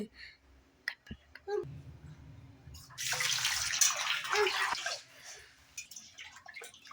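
Fish washed by hand in water make a couple of seconds of close splashing and sloshing in a basin, set between quieter handling noises and brief talk.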